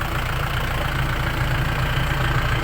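A diesel tractor engine idles close by with a steady, low chugging rumble that holds unchanged throughout.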